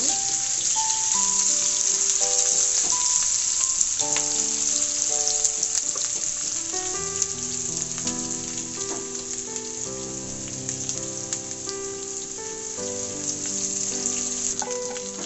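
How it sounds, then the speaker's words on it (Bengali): Onions fry in a pan for a chicken dish, a steady close, dense sizzle that never lets up, with quiet music playing underneath throughout. "পেঁয়াজটা লাল লাল করে আমি ভেজে নেব।"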